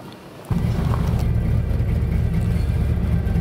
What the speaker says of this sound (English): These carburetors ain't run in probably 20-30 years. Now they're back to life.